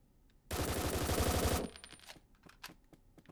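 Burst of rapid automatic gunfire in the video game Door Kickers: Action Squad, about a second long and loud, followed by scattered fainter shots and clicks.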